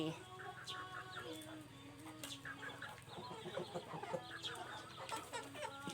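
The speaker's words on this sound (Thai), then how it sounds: "อันนี้พ่อไก่" Chickens cluck and a rooster calls nearby, overlapping bursts of fowl chatter with some faint background voices.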